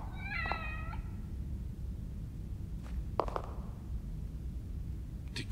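A cat in the game The Evil Within: The Assignment gives one clear, fairly close meow near the start, followed by a couple of faint clicks and soft knocks over a low rumbling ambient background.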